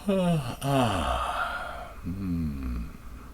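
A long, drawn-out yawn with a rising then falling voiced tone, followed by a second shorter yawning exhale; close and clear.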